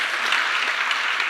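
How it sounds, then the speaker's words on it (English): Audience applause following a talk on A/B testing in Edge Delivery Services, a brief, steady burst of many hands clapping at an even level throughout. "Applause for him."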